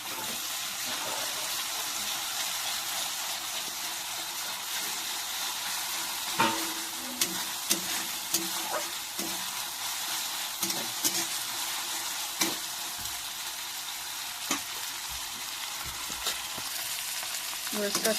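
Ginger garlic paste fries in a pan for a spicy red chicken curry, a dense continuous sizzle with scattered clicks and scrapes of a spatula stirring through it; no voices.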